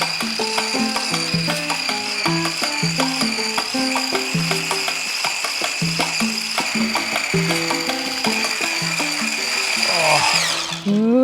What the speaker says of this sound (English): whipping it up, just with an electric whisk to get loads of aeration in this moisturizer